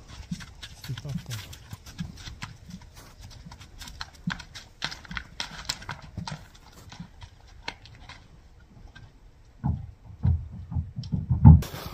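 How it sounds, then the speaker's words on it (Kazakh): Hooves clip-clop on hard ground as a horse is led bareback, with irregular close knocks and shuffling, and someone speaks over them before louder thuds near the end. "Мына достор, атты жайдактап дагы бир көрсөтүп коелу."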